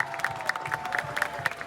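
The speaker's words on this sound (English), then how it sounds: "can we please get a real round of applause for the magic right here?" An audience at the Mosaic Festival 2025 claps in rapid, dense applause with faint crowd voices, a steady patter of hands heard up close through the whole stretch.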